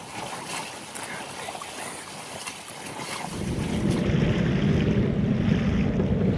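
A sailboat under both sails in about 8 knots of wind, making a steady 3.5 knots, with steady wind rush and water noise that thickens into a louder, fuller wash of waves midway through.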